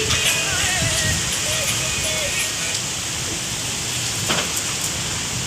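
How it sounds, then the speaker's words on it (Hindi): Heavy rain pours steadily in a dense, constant hiss, with faint voices and occasional louder drips beneath it. "बहुत ज्यादा तेज बारिश आ रही"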